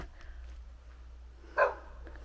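A dog lets out one brief, faint bark at a distance during a house renovation in Bulgaria, over a low steady background hum.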